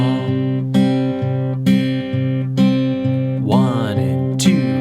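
Fingerstyle acoustic guitar picks through the bridge of a song, with a steady bass pulse under plucked melody notes and a few slides, close and clear with no voice.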